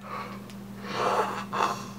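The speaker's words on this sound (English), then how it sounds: "I can't stop yawning." A drawn-out, breathy yawn with a long exhale, trailing off into a second, shorter sigh-like breath, close and fairly quiet.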